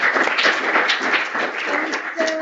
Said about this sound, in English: let's give a round of applause to all of the speakers.